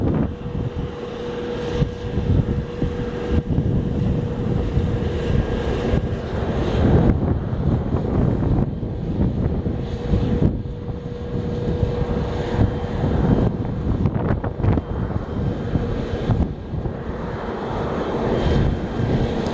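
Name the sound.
Southwest Airlines jet arriving on runway 28 left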